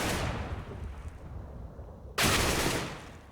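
Glock pistol fire during a Counter-Strike match on Mirage, heard as a dense wash of game gunfire with a sharp, loud burst of shots breaking in near the end.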